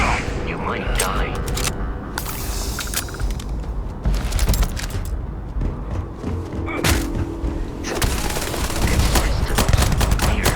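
Rapid automatic gunfire and heavy thuds from the sci-fi game Starfield, sustained bursts mixed with booms and mechanical clanks, loud and continuous throughout.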